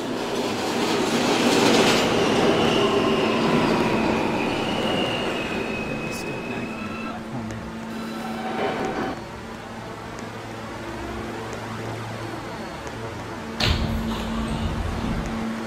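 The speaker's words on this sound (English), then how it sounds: "This is a Union Turnpike bound E-Train." An E subway train pulls into 77th Street station, its wheels clattering and squealing as it slows, loud and close, with a brief burst of noise near the end.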